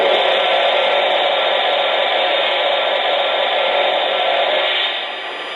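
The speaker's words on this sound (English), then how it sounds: "Here's a steam blowdown sound effect." A steady, loud hissing rush of steam blowdown from a Lionel O-scale 3-rail Heisler model locomotive's sound system, running continuously for about five seconds before easing off slightly at the end.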